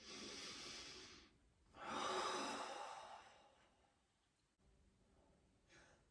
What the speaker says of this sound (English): Taking deep breaths helps too.